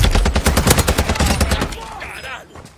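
Rapid automatic gunfire rattles in a fast, loud burst during a video game, the shots dense at first then thinning and fading, with voices talking over it.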